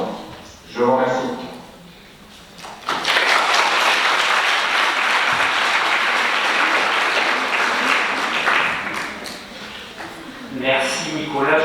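Sustained applause from a conference audience, a broad steady roar of clapping lasting several seconds after a brief voice at the start, with talk returning as it fades.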